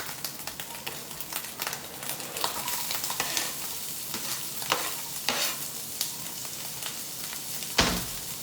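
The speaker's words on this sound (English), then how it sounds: "so now we're going to add our eggs. Sorry, I said eggs, our onions. Oh my gosh, it's popping everywhere." Onions fry in a hot pan with a steady crackling sizzle, peppered with sharp pops and occasional stirring scrapes close by, with no one talking.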